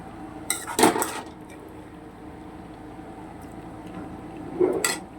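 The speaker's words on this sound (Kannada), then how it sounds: "ಸೊ ಈಗ ಇಲ್ಲಿ ಏನು ನಾನು ಮಸಾಲೆ ಮಾಡ್ಕೊಂಡಿದ್ದೀನಿ, ಸೊ ಅದನ್ನು ನಾನು ಈ ಬಿಸಿಬೇಳೆಬಾತ್ಗೆ ಸೇರಿಸ್ತಾ ಇದ್ದೀನಿ" Spice masala added to bisi bele bath in a pot, with two distinct metallic clinks of a spoon against the pot about four seconds apart and quiet stirring noise between.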